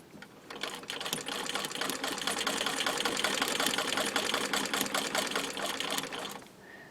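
A vintage Singer 15 treadle sewing machine stitches fabric with a steady close mechanical clatter of rapid needle strokes, building and holding for several seconds before stopping.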